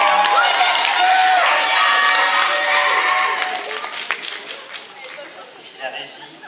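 An audience at a cosplay contest on the Colorful stage at Spinatorii 2023 gives a loud burst of applause and cheering that fades after a few seconds, with voices mixed in.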